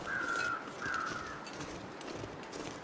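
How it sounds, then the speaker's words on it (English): Two drawn-out crow caws ring out in quick succession early on, moderately loud over a steady outdoor background rumble, then fade into the ambient noise. "Oh, I hear crows."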